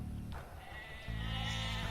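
Sheep in the Age of Empires II Definitive Edition video game bleat twice, a short call and then a longer sustained one, clear over a quiet game backdrop.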